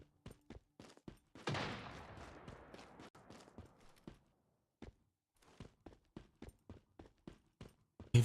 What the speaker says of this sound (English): People shooting at people from somewhere.